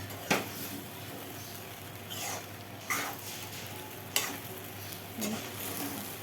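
Susla, a Karnataka-style puffed rice dish, being stirred in a pan: quiet, even scraping strokes of a spoon recur roughly every second or so over a faint background sizzle.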